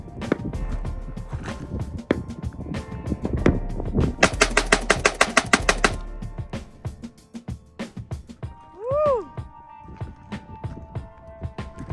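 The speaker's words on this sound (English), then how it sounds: "rapid fire." An AK-47 fed from a 75-round drum magazine fires a rapid burst of about a dozen sharp, loud shots in quick rhythm, set among outdoor bustle and clattering, with a voice heard nearby.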